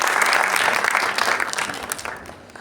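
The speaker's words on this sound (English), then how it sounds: "So can we have a huge round of applause for her?" Audience applause fills a seminar hall, a dense, steady clapping from a crowd that stays loud and then slowly tapers off.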